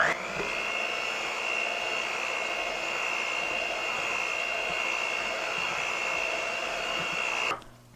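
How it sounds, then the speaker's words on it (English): Electric mixer blending cookie dough for pecan snowball cookies, a steady close high motor whine running continuously, then cutting off abruptly near the end, no speech. "We'll give this a mix."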